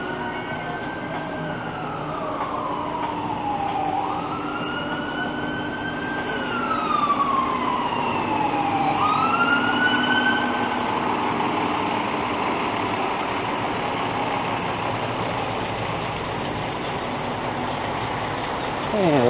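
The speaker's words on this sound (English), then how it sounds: "as I get rudely interrupted by those ambulance sirens" Ambulance sirens wailing on a busy downtown Toronto street near Queen and Beverley, two rising and falling tones sweeping over steady traffic rumble, fairly close and loud.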